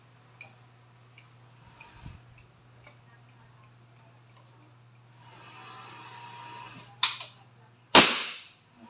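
An SPMC PCP airgun fired with its silencer removed gives one loud, sharp crack near the end, with a smaller pop just before it, over a low steady hum and quiet handling noise.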